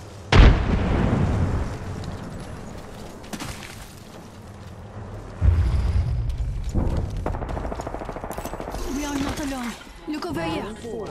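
A grenade blast in a first-person shooter game, a sharp loud burst followed by rumbling decay, with a second heavy boom midway and game sounds plus talk around it.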